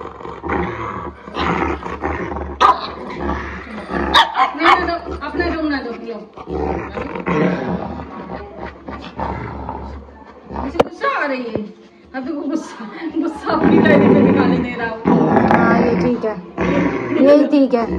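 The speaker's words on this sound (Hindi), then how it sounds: "ये गब्बर गुर्राते हैं तो इनको लगता है इनसे लड़ रहे हैं" A Rottweiler and a pug growl and roar in bursts during play, loud and close, overlapping with people talking throughout.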